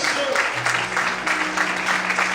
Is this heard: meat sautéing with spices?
no